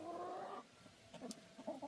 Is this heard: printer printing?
no